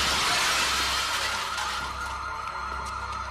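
Candy glass shattering in a violent film scene, a bright crash and hiss of breaking fragments that starts loud and slowly fades, with sharp pieces ticking down near the end.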